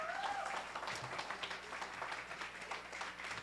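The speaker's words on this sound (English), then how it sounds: "Let's keep the round of applause going" A live audience at an Independent Media Center community event in Urbana-Champaign keeps up a round of applause, steady rhythmic clapping heard faint and somewhat distant throughout.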